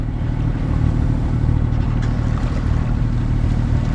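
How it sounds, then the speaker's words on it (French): Motorboats speed past on the sea, a steady, loud engine drone with rushing water filling the whole stretch without a break, no voices. "Des images de bateaux à moteur qui filent."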